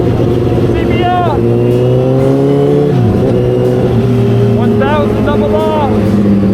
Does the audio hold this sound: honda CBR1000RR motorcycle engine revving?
yes